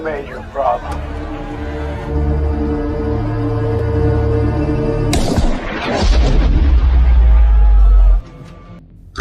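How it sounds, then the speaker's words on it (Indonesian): A sudden loud gunshot from a film cracks out over a tense movie score, followed by a deep rumbling boom and dramatic music with voices. "Rupanya tembakan dari Jack hanya mengenai lengan sang presiden."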